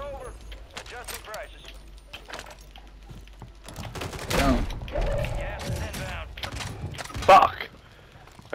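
Pistol gunshots fire in Call of Duty gameplay, sharp bursts rising amid game effects and a mix of talk, with a loud crack near the end.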